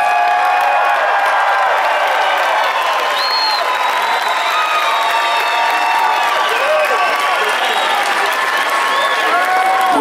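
A large audience at a concert at The Colosseum, Caesars Palace, Las Vegas, claps and cheers for a band member, a loud, continuous roar of applause and whistles that stays steady throughout.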